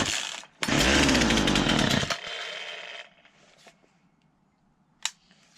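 A Poulan 2150 chainsaw, just fitted with new gas lines, roars loudly for about a second and a half, then its engine drops off and dies away, followed by a faint sharp click near the end.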